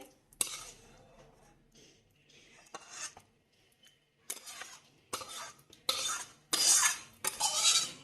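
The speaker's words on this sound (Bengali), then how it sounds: "এবার নামিয়ে নিচ্ছি একটা বাটিতে" Dum aloo being spooned from a pan into a bowl, with scattered metallic scrapes and clinks of a ladle against cookware that grow denser and louder toward the end, with no talking.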